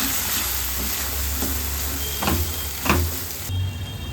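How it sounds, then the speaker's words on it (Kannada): Spice masala for rajma curry fries in a pan with a loud, continuous close sizzle, broken by a few scraping stirs of a spoon against the pan. "ಈ ಹದದಲ್ಲಿ ಮಸಾಲೆ ಫ್ರೈ ಆಗುವಾಗ"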